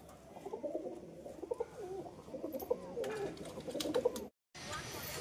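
A pigeon coos repeatedly close by in a home setting, soft rolling calls coming in a steady rhythm over low background noise.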